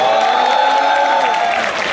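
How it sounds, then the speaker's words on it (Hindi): A large student crowd at IIT Roorkee breaks into loud, sustained applause with cheering, a dense, steady roar that holds at full level for the whole moment. "एक बार जोरदार तालियां बजा दीजिए।"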